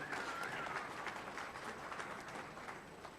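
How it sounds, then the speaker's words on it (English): An audience at a club meeting applauds the birthday celebrants, a faint, distant, even patter of many hands clapping throughout. "let's give them all a nice round of applause"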